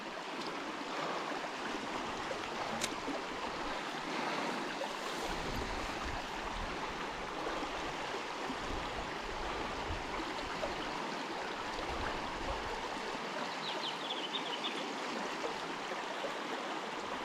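A fast-flowing stream in high water rushes steadily and loudly nearby, a dense unbroken wash of water with no pauses across the whole stretch.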